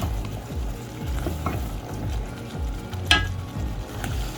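Spices sizzle and fry in a pan over medium heat for koi fish curry. The steady crackle runs throughout, broken by scraping stir strokes and one sharp clink.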